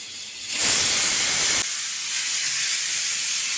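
A pressure cooker vents steam in a loud, sharp hissing burst lasting about a second, then settles into a quieter, steady hiss.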